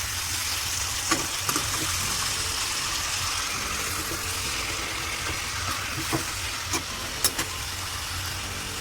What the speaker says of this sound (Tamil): சிக்கன் நல்லா போட்ட பிறகு லைட்டா கிண்டி விட்டுக்கோங்க.